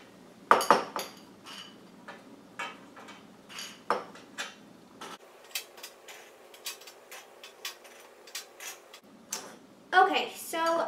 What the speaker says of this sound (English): first we're going to take our square pretzels and just place them on the pan